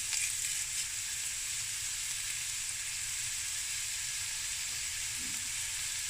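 Chopped onions and curry leaves sizzle in hot oil for a creamy lamb knuckle curry, a loud, even crackle that holds steady throughout with no voices.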